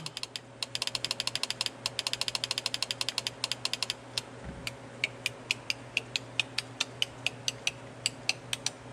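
A relay panel clicks repeatedly as its relays switch, a fast run of crisp mechanical clicks that thins into slower, evenly spaced single clicks, close and clear over a faint steady hum.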